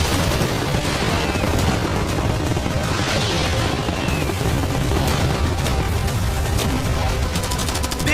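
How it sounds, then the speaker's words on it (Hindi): Cannons, fireworks and catapults fire all at once to defend a yacht, a dense continuous roar of overlapping blasts, crackles and booms at high volume throughout. "मैं चाहता हूँ कि तुम कैनन्स, फायरवर्क्स, एरोस, कैटापल्ट्स सब कुछ एक साथ फायर करो।"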